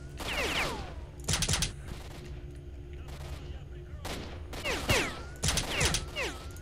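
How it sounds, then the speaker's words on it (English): Gunfire from the video game Stalker erupts in several sharp bursts, crackling volleys separated by brief lulls, loud and close, with a faint voice underneath at times. "Oh, they're shooting at me."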